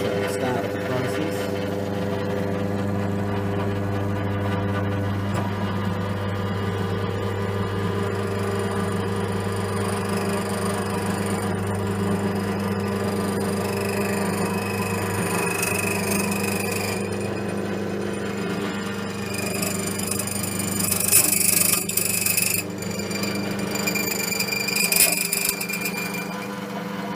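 An automotive key cutting machine runs through its cutting cycle, a steady whirring motor hum with a revolving wheel grinding on, growing a little louder and harsher near the end, with no talk over it.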